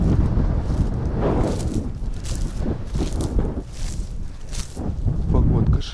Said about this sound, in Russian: Сильный ветер сегодня.